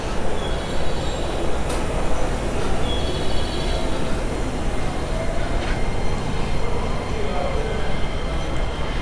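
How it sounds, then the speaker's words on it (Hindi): Japanese local train pulling out of a station between Kyoto and Osaka, a steady loud rumble with wheel squeals and rail clatter, close by, with faint voices now and then. "शायद ये ट्रेन निकल रही है, अगले पकड़ लूँगा लोकल।"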